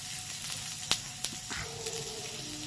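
Potato and capsicum snacks fry on low flame in a pan, a steady soft sizzle with a few faint clicks of a spatula turning pieces.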